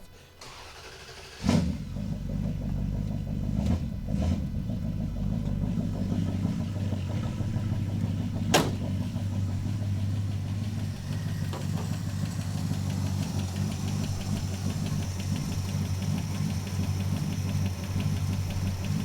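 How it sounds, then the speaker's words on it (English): Car engine starting with a sharp catch, then idling steadily with a lifter tick, a continuous low rumble with light ticking close by and no voices. "This motor still has lifter tick."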